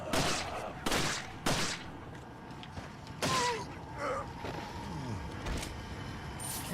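Several sharp gunshots fired in Resident Evil 4 at an enemy's head, spaced irregularly across the stretch with game ambience and a low groan between them.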